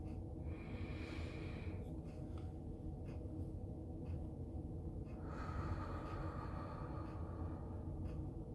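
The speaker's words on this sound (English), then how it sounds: "let's take 3 deep breaths" Slow deep breaths drawn in and pushed out, close and breathy, a couple of long airy inhales and exhales separated by a short pause, with no talking.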